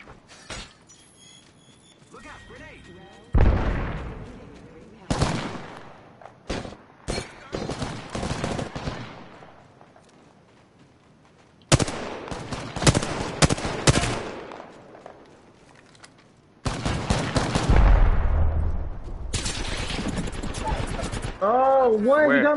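Gunfire in Apex Legends, bursts of automatic fire and single cracks in clustered volleys separated by quieter gaps, some near and loud, with sustained shooting toward the end and a person talking intermittently.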